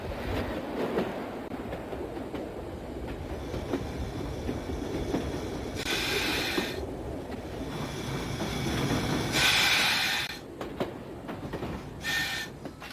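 A steam train runs on a single-line country railway toward a junction: a continuous rolling rumble with wheel clatter, broken by several short bursts of hissing.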